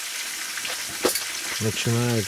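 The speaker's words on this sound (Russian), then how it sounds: "жарить щуку нам" Pike frying in a pan outdoors, a close, steady sizzling hiss with a short clatter midway, and someone speaking briefly near the end.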